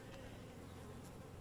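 A dense, close hum of honeybees buzzing continuously inside an open hive fills the moment, steady and unbroken, with faint background noise.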